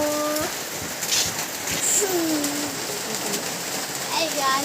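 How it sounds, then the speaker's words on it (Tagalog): Steady rain falls throughout as a dense, even hiss, with scattered drips and splashes, while a voice and a few distant bird calls rise faintly above it. "Maulan ngayon."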